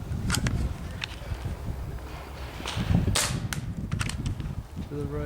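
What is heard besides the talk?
paintball gun shots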